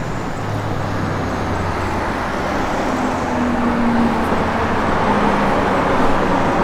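A 1969 Dodge Charger drives along, its steady low engine rumble and road noise holding at a fairly even level throughout, with no voices.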